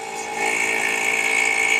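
A Harbor Freight 2.5 CFM vacuum pump runs steadily in a workshop for a vacuum chucking setup, a constant close motor hum and whine that rises slightly in level, then holds evenly, with no talking.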